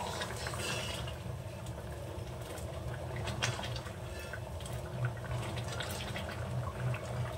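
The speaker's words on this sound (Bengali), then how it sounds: "ডালটাও ফুটে উঠেছে।" Dal with slit green chillies bubbles in a pot on the stove, a steady low gurgle with soft popping blips that carry on without pause.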